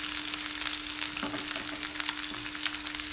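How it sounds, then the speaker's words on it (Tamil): Chopped onions fry in hot oil with dried red chillies for a drumstick leaf kootu, giving a steady, close crackling sizzle with a few soft stirring scrapes throughout. "ஆனியன் கோல்டன் கலர் ஆகிற வரைக்கும் ஃப்ரை பண்ணி எடுத்துக்கணும்"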